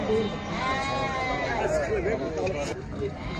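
Male lambs at the Maştağa sheep and goat market bleat in quavering cries that overlap, set against a busy crowd murmur and nearby chatter.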